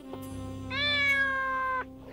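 A cat meows in the video game Zone of Enders, one long drawn-out, clear meow that swells in the middle and cuts off sharply, heard over a steady low hum of game background sound.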